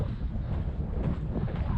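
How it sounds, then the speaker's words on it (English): Strong wind buffeting the microphone on an exposed hilltop during an early-morning long run, a loud continuous roar with gusting surges and no voices. "It's a bit windy up here, as you can probably tell"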